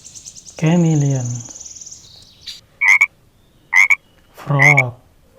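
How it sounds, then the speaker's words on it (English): A frog croaks in a burst of low, rattling calls near the start, followed by a few short, sharp higher chirps spaced apart and a final low croak, close and loud with quiet gaps between. "frog"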